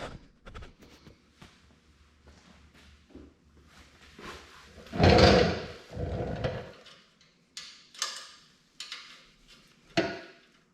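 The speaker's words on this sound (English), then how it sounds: "take out these two bolts for the heat shield with your 4mm Allen" A 4mm Allen key loosens and removes the exhaust heat shield bolts on a Yamaha FZ8 during a Two Brothers M-2 exhaust install: scattered metallic clicks and scrapes, with a louder burst of rattling tool handling in the middle, then intermittent taps near the close.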